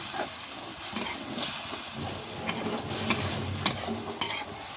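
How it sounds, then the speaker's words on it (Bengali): Meat with ginger and garlic paste stirred in a hot pan, a steady close sizzle and hiss with repeated scraping strokes of the spoon running throughout. "আদা ও রসুন বাটা দিয়ে এখন এটা কষাবো ভালোভাবে"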